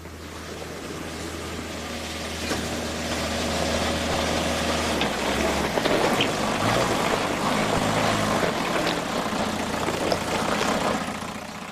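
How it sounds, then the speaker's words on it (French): A diesel engine in a homemade machine runs at a steady idle, a low, constant drone close by that shifts pitch partway through, with clattering and rattling layered on top and no talk. "Cet engin que Rex et moi avons fabriqué pour une série télévisée il y a quelques années a un moteur diesel."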